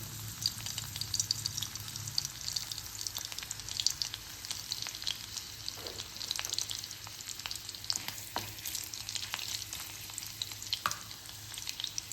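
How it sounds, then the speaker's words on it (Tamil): Garlic cloves frying in hot oil in a kadai, a steady close sizzle with occasional stirring scrapes and pops throughout, no voices. "அடுப்பில் கடாய் போட்டு எண்ணெய் விட்டுருக்கேன். இதில் 2 பல் பூண்டை தட்டி சேர்த்துக்கிறேன்."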